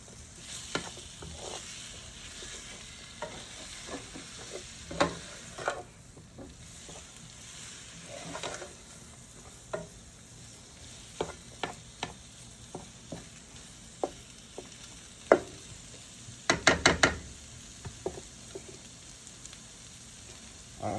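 Chicken gizzards and hearts are stirred with seasoning in a pan, giving a constant soft sizzle broken by repeated short clicks and scrapes of a utensil, with a quick clattering cluster near the end.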